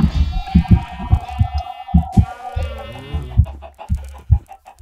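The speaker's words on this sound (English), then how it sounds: "get my horde of chickens together" Chickens cluck repeatedly in quick, uneven bursts, with a higher squawk running through, fairly close and loud with a game-like quality.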